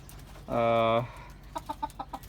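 A tiger breed rooster kept on a rooftop gives one loud, drawn-out call close by, followed by a quick run of short clucks.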